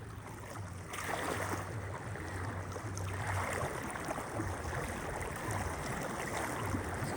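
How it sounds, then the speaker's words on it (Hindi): Fast floodwater rushing through a village, a steady broadband roar of flowing water close by, continuous and unbroken with no voices. "पानी नीचे जा रहा है ना, और तेज आ रहा है पानी"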